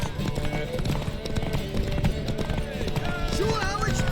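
Horse hooves clip-clop at a quick gallop in the video game The Witcher 3: Wild Hunt beneath busy game sounds and talking voices, the hoofbeats moderately close and continuous.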